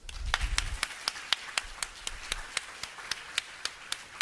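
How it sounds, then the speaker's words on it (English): Sparse audience clapping honors a teacher at a children's book signing celebration, with sharp, distinct claps spaced irregularly over a low background murmur early on. "We're going to applaud you right now."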